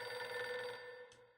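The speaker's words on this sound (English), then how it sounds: "it's the telephone ringing" A telephone rings in the video game Reverse: 1999, a steady electronic bell tone sounding alone and fairly close, trailing off near the end with a brief high chirp.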